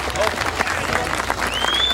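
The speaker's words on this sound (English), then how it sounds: "Tremendous cheer for him, Paul Lupton." A crowd cheers and applauds a strongman at a 1988 strength trial, with steady clapping throughout and a commentator's voice over it.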